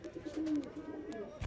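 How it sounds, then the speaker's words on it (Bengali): A pigeon at a pigeon sale coos close by in a short, low, throaty phrase, with soft rustling and a brief thump at the end and no speech. "পায়রার কোয়ালিটি দেখো, এই দেখো পায়রা দেখো।"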